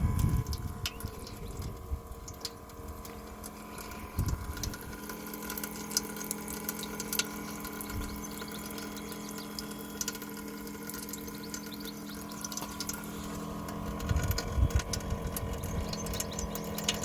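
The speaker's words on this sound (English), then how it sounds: "now that the inlet's working properly and is pumping through at a considerable rate" A camper van's water pump runs, pushing fresh water through the sink inlet with a steady mechanical hum and flowing water, plus occasional louder splashes and knocks, no talk.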